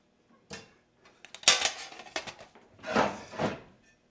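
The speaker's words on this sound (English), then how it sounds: "including my removable bottom tart pan and my beloved baguette pan" Metal baking pans, a removable-bottom tart pan and a baguette pan, are handled in a kitchen cabinet, giving a series of close, scattered clanks and rattling scrapes separated by short pauses.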